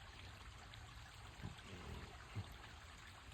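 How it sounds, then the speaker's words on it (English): A small stream trickles into Rough River Lake along a nature trail, a faint, steady low wash of water with a couple of soft splashes, heard alone at a distance. "Little stream flowing there into the"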